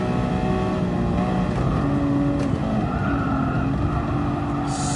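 A flat-12 engined car, a Black Series model, drives hard on the Nürburgring with a loud, continuous engine drone and shifting harmonics that rise and fall through gear changes and steady throttle, heard close from inside the car without talk.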